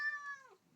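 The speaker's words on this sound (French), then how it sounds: "mon chat vous dit bonjour" A single short meow from a cat, clear and close, rising then sliding down at the end, with quiet room sound after.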